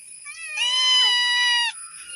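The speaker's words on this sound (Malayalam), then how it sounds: "പൂച്ച." A cat gives a single drawn-out, high-pitched meow close by, rising and then falling away, with quiet around it.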